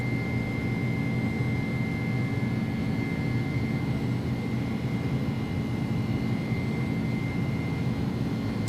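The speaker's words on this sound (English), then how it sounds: "Takeoff power is now set." Airliner jet engines at takeoff power on an iniBuilds A300 in the X-Plane 11 flight simulator, a steady broadband roar with a sustained whine, continuous and even throughout, with no voices.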